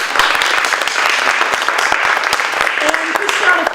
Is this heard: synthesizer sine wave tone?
no